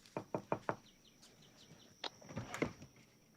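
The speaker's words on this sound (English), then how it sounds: "Is that knocking at the door?" A quick burst of four knocks on a door, fairly close and crisp, followed by quieter shuffling sounds with faint bird chirps in the background.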